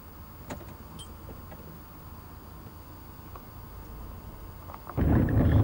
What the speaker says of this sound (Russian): Блин, заведи машину, Серега.